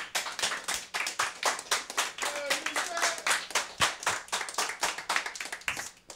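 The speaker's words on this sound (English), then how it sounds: "If you like Michi, clap right now." Audience at a freestyle rap battle night claps to vote for a performer, a dense run of hand claps sustained for about six seconds with a few voices underneath.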